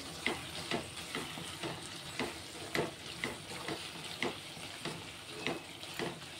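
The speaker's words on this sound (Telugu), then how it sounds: "మిల్ మేకర్ అయితే ఉడుకుతుంది." Soya chunk curry bubbles and sizzles in a pan, with regular scraping stirs repeating about every half second, close up with no talking.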